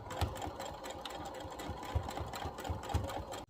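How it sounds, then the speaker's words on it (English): A sewing machine runs a straight stitch through fabric for scrunchie earrings, a close, steady rapid needle chatter with a regular pulsing rhythm, heard alone throughout. "create your straight stitch all the way down to the very end"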